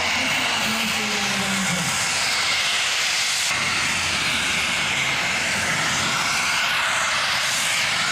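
A radio-controlled model jet, a three-metre turbine aircraft, hovers with a loud, steady roaring whine and hiss that holds evenly throughout, with slight tonal shifts as the engine is held in a hover.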